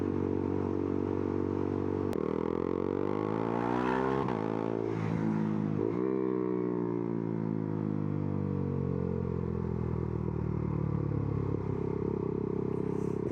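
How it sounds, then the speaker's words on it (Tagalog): A loud Husqvarna Svartpilen 401 motorcycle engine idles roughly, then revs up and down a few times before settling back into a steady, throaty exhaust rumble. "Napakalakas ng tambucho."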